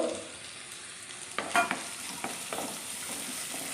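Curry leaves, ginger and onion sautéing in a pan for a spicy mushroom masala, a continuous gentle sizzle with a few spoon scrapes and taps midway, no talk.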